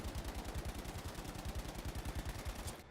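An STG assault rifle in Battlefield 5 fires a steady sustained automatic burst, rapid evenly spaced shots loud and close for nearly three seconds before cutting off.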